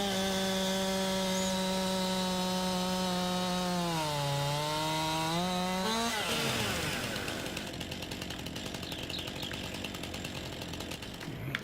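A chainsaw cutting trees in Farming Simulator 19, a steady idling drone that revs upward and then bites into wood with a loud, rough buzzing that continues to the end, no voices.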